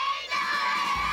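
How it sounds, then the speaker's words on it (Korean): A crowd cheers at a rural elementary school's autumn sports day in 1989, children's voices shouting together in a dense, bright, continuous roar across a brief moment. "응원하는 모양입니다"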